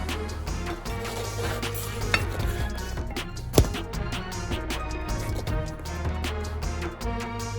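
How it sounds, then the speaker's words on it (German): Naan dough sizzles and fries in a pan, a continuous close crackle with occasional soft scrapes and clinks, plus one sharp knock near the middle. "brate die Teiglinge nun in der Pfanne an"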